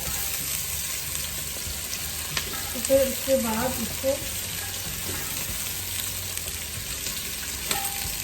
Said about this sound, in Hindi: और इसको हल्का सा भूनना है, हल्का सा इसको थोड़ा सा कलर इसका अगर चेंज हो जाए